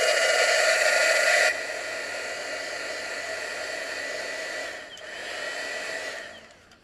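A hair dryer blows steadily on a wet, freshly painted foam figure. A loud, constant whoosh comes first, then drops to a lower setting or is held farther off, and briefly dips and trails away near the end.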